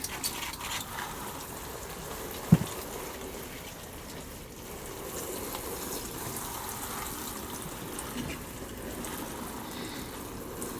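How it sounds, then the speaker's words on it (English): Freshly sown vegetable seeds being gently watered, a soft, steady trickle and patter of water on soil, faint and close, with one brief knock partway through. "And then we just gently water them in."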